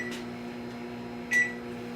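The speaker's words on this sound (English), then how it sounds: "My coconut oil is in solid form, so I have that in the microwave melting." A microwave oven hums steadily while melting solid coconut oil, a constant low drone with one brief brighter clank or chirp partway through, no voices.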